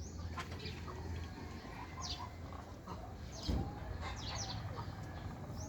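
Chickens cluck and call in a busy farmyard, with scattered bird sounds, wings flapping and a steady low background hum.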